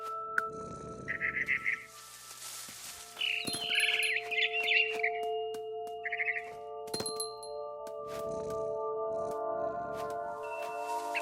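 A frightened barn swallow in What Remains of Edith Finch lets out scattered bursts of high chirps, separated by quiet stretches. A low steady hum and occasional soft thuds and rustles run underneath.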